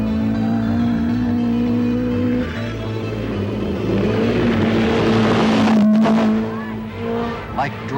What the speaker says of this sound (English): Like dragons charging with all their might, cars tear across an arid countryside